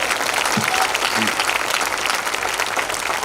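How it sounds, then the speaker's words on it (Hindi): Audience applause at a live Hindi comedy poetry show, a dense steady wash of clapping from a large crowd filling the whole stretch, with a brief voice surfacing near the start. "एक बार तालियां बजा करके माहौल दे दीजिएगा"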